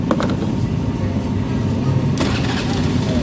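A Honda Beat FI scooter cranks on its electric starter with a fresh battery, a short whirring crank near the start and then a steady engine drone with a sharp burst around two seconds, voices faintly present.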